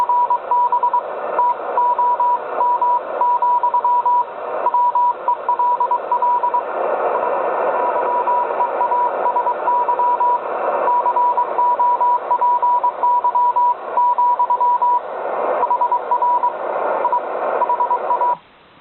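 Morse code reply arrives on an HF transceiver as a steady single-tone beeping of dots and dashes in regular bursts, loud and clear over a faint hiss, stopping abruptly at the end.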